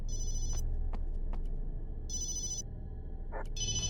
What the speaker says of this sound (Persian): گوشی زنگ می‌خوره.